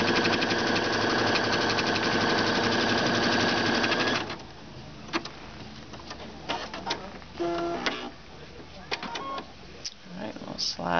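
A sewing machine stitches plain blue fabric for an appliqué band, whirring loud and continuous for several seconds, then stopping and giving way to scattered clicks, shuffling and a few short bursts of stitching.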